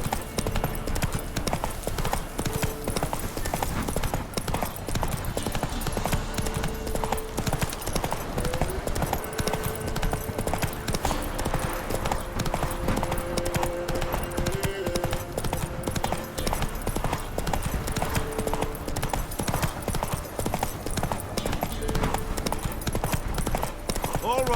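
A horse gallops at a steady, rapid clip-clop in The Witcher 3, the hoofbeats continuous and close for the whole stretch, with a voice talking over them.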